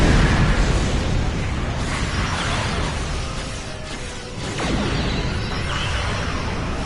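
Starship weapons fire and explosions in the space combat game Star Trek Online, a dense continuous roar of blasts, whooshes and booms layered loudly throughout.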